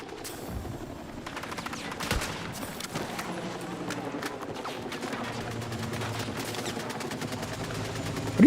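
Rapid gunfire in a video game, dense bursts of automatic shots crackling almost continuously at steady loudness, some near and some distant, with scattered louder single reports.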